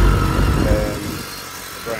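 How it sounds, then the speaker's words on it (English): A 2010 BMW K1300GT touring motorcycle engine idles steadily and smoothly at close range, a low continuous rumble with a voice speaking over part of it. "Engine sounds brilliant."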